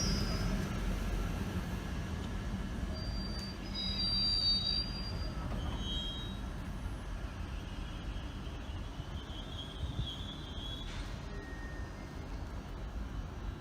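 A Class 800 train, unit 800 101 from Peterborough, passes through Grantham station with a steady low rumble of wheels and running gear, plus brief high squeals and whines riding over the top.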